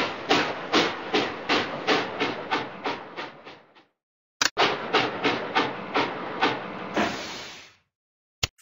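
Trains in a Curious George trains video game, heard as two runs of steady rhythmic chugging bursts, each fading out, with a short sharp hiss between them and no talking.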